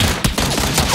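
A quick burst of video game gunfire, rapid shots cracking in a dense, loud flurry lasting about a second.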